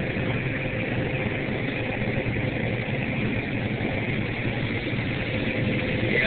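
A John Deere 9760 combine harvester's engine runs steadily during a corn harvest, a continuous close drone with broad mechanical rumble heard from inside the cab.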